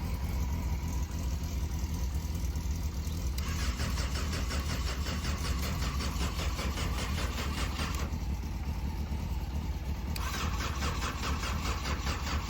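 A Yamaha Fazer 600 motorcycle engine cranks repeatedly on a weak battery, a loud, steady, close starter whir rising into faster bursts without catching.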